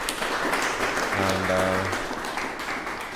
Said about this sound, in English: We can give a round of applause to our guests